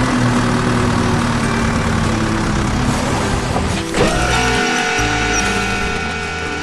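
An animated orange snow blower truck engine rumbles loudly and continuously as it pushes through thick snow on a mountain road, with a mechanical clank partway through.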